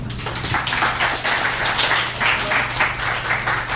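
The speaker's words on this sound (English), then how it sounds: "Let's give all of them a round of applause" A symposium audience gives a steady round of applause for the presenters, loud and close, with dense clapping continuing throughout, a low hum beneath it and faint voices mixed in.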